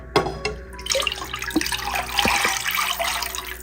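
Rice flour batter poured from a vessel into a kadai, a steady liquid splash and trickle with a few faint clinks of metal, close and fairly loud, no voices.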